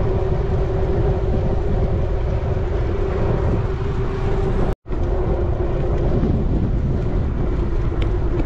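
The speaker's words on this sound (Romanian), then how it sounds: "Bate vântul din față." A strong headwind buffets the microphone of a cyclist riding from Milan to Gambolò, producing a constant loud rumbling roar with one brief dropout midway and no speech.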